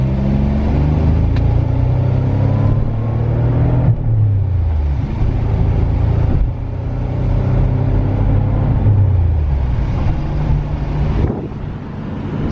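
A 1988 Nissan 300ZX Turbo Z31 accelerates through its gears, the engine note rising and dropping with each shift under steady wind and road roar from inside the car.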